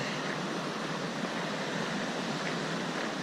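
Steady broadband rush of a river flowing beside a gravel road in Waterton Canyon, Colorado, a constant, fairly loud wash of water with no talking over it.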